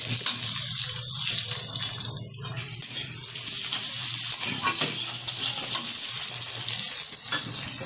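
White cumin seeds and chopped onion fry in a pan with a dense, continuous, fairly loud sizzling hiss, dotted with faint crackles.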